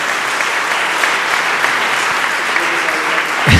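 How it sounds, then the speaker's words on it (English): Sustained applause from a conference audience for a panel, dense clapping from a sizable crowd filling the room evenly before a louder swell at the very end. "Round of applause, please, for the panel once again."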